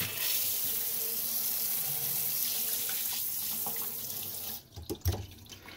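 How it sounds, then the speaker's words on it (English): Water gushes steadily from a faucet into a sink, a constant hissing flow that cuts off near the end with a few knocks. "Fresh water coming in."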